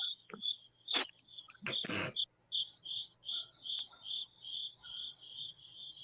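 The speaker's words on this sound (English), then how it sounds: "Oh, crickets." Steady, pulsing cricket chirps repeat in an even rhythm close by, with a few louder rustling knocks early on and no talking.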